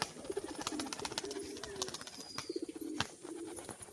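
Pigeons cooing up close in a loft where a young red Rajshahi pigeon is being sold, with repeated soft rolling coos in short runs over a busy background of flutters and other birds.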